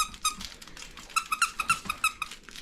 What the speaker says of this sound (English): Have you got a squeaker?